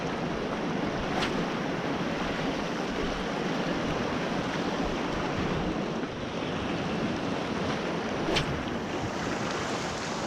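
Fairly decent sets of ocean waves roll in on a murky-water fishing shore, a steady broad wash of surf with wind rumbling across the microphone and no voices.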